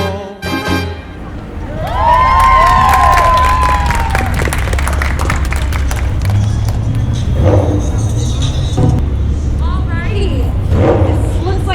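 Loud audience applause and cheering after a Barrio Allegria dance performance, a dense steady roar of clapping and shouts sustained for about ten seconds, following the tail of music at the start.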